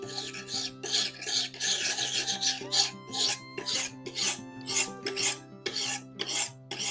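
A blade being sharpened with a hand file, close and dry: about nine rasping strokes in a steady back-and-forth rhythm, each a gritty scrape with short pauses between. No one talks.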